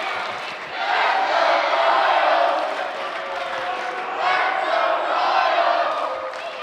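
A crowd at a hometown wrestling show cheers and yells steadily for the favorite team, Royal Blood, with a loud, sustained roar that swells and dips.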